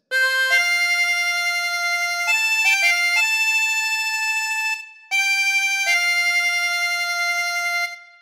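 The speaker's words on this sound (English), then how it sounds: "practice this until you end up with something that sounds like this" A harmonica plays a phrase of Amazing Grace in sustained, reedy held notes that step between pitches, pausing once briefly before a second phrase, clear and close with no talking.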